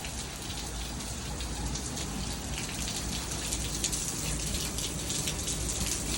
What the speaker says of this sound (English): Come play in the rain.